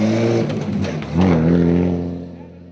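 A car's engine revs loudly and close by at a car test-drive event, rising to a strong surge partway through and then easing off and fading. No voices are heard.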